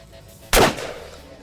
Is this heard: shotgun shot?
yes